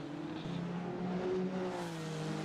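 GT3 race cars in a sim racing game at Road Atlanta, engines droning steadily down the straightaway with sustained harmonic whine, moderately loud and continuous, no voices.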